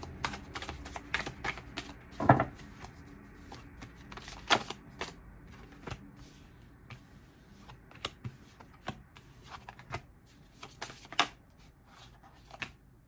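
Tarot cards being shuffled during a reading, a run of crisp, close riffling clicks and soft slaps in uneven bursts, with a louder flurry near the start and quieter handling between.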